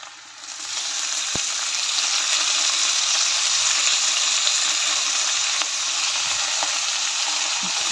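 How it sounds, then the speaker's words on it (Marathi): Finely chopped fenugreek leaves sauté over softened onions in a pan, giving a steady, loud broadband sizzle that continues without pause, with a couple of faint utensil taps. "मेथी घालून चांगलं परतून घेऊया."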